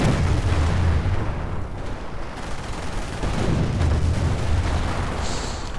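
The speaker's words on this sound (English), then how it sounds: "Lots of grenades getting lobbed at them." Grenades exploding during a Company of Heroes battle against Soviet tank forces, a dense, continuous roar of overlapping blasts and gunfire with low booming thuds, loud and sustained throughout without pause.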